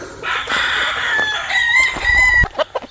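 A rooster crows loudly and close by at a small chicken coop, with chickens clucking around it. Brief sharp knocks cut through the crowing.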